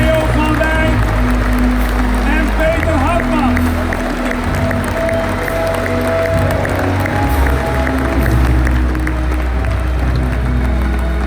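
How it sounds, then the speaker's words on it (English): A crowd applauds and cheers at a KLM 100-year celebration party, a full room of clapping mixed with voices and some talk underneath, sustained for the whole stretch. "I would like to invite and give them a big round of applause"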